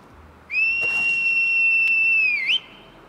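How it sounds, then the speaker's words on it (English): A horse whistle in the video game Skyrim, a single sustained, clear whistled tone held for about two seconds that bends downward and then sharply upward as it ends. "Horse whistle, excuse me."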